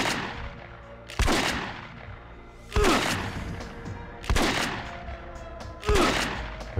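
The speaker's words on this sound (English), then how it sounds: "I am definitely wasting my shotgun ammo there" A shotgun fires four times in Vampire: The Masquerade - Redemption, each blast sharp, loud and close, spaced about a second and a half apart and trailing into ringing decay over ongoing background noise.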